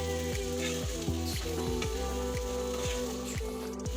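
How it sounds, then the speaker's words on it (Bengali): Chopped beans and peas sizzling in a hot pan, a steady crackling fry with soft stirring scrapes, close and continuous under a low rhythmic hum, with no talking. "এবারে সবগুলো সবজি আমি একসাথে ভালো করে মিশিয়ে প্রায় 5 থেকে 7 মিনিট ধরে ভেজে নেব।"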